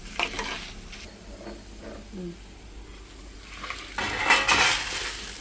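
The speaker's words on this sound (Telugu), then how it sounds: "ఇలా మంచిగా ఫ్రై చేసుకోవచ్చు" Bitter gourd fries in a pan with a soft sizzle, a spoon stirring and scraping against the metal, and occasional clinks of utensils, growing louder and busier toward the end.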